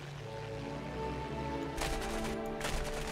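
Aircraft guns firing in War Thunder, two loud bursts of rapid gunfire cutting in over a steady droning engine hum, close and without any talking.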